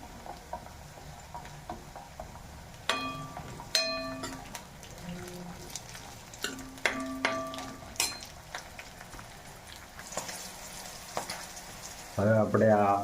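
Green peas drop into onions frying in oil, making a soft, low sizzle broken by a series of sharp utensil clicks and scrapes, with a brief tonal ring near the end.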